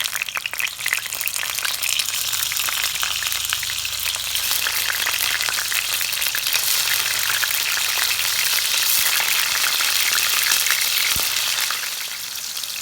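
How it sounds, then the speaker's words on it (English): Sliced yellow squash shallow-fries in a pan of hot canola oil, giving a steady, dense sizzle and crackle that runs close and loud throughout with no speech. "You want to use quite a lot of oil as we're kind of shallow frying these."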